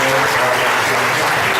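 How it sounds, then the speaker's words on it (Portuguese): A church congregation claps together during a Portuguese-language communion and baptism service, a dense, loud, continuous burst of applause lasting under two seconds. "Vamos aplaudir ao Senhor."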